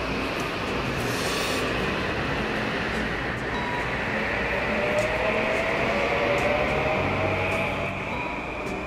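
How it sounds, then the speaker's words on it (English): A train rolls past Westport station in Connecticut, bound for Grand Central, its steady rumble and wheel noise loud and continuous throughout with a faint rising squeal. "That train is on its way to Grand Central Station."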